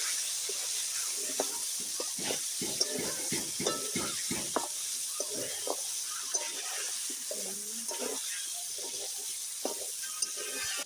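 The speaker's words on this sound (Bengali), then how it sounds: "কপিটা এখন আস্তে আস্তে ভেজে নিচ্ছি" Cauliflower frying slowly in a pan with potatoes gives a soft, steady sizzle broken by light scrapes and clinks of stirring, fairly quiet and close.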